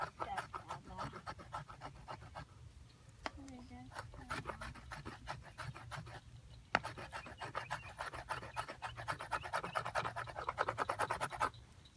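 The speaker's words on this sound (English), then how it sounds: "that is exactly what scraping wood with this knife is" The blade of an ESEE 6 knife scrapes repeatedly along a wooden stick in quick, rhythmic rasping strokes. The scraping is fairly close, with brief pauses and a few soft vocal sounds mixed in.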